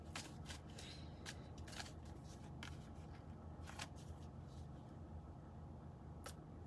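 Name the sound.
shuffling tarot cards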